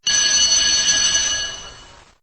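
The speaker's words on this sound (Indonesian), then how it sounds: "Lalu terdengarlah suara bel berbunyi." A bell rings in one sustained bright metallic burst, loud and close, holding steady before fading out within about two seconds, with no voices.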